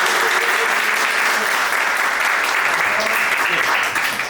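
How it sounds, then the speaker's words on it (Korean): People at a meeting with a lawmaker clap in loud, continuous applause that holds steady and even before tapering at the very end. "이경수 의원님 박수 한번 주십시오"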